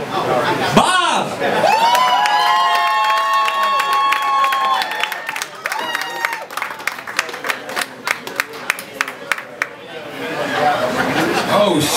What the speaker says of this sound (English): So y'all give him a real big round of applause